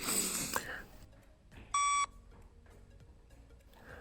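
A single electronic shuttle run fitness test beep rings out for a moment amid faint background noise, loud and sharp against a quiet room.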